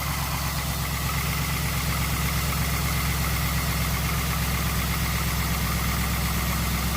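A GM LS V8 engine idles with an odd noise, a loud, close, steady rumble with a constant rapid ticking and whirring layered over it, unbroken throughout.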